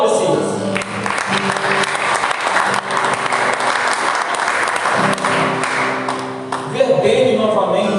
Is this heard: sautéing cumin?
no